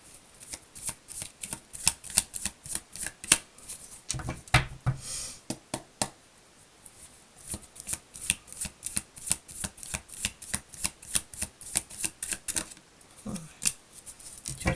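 Tarot cards shuffled by hand in quick riffling bursts of crisp, papery flicks, close and fairly loud, with a brief pause in the middle before the rapid shuffling resumes.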